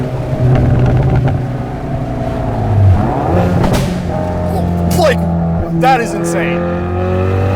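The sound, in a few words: Hyundai Veloster N accelerating with exhaust pops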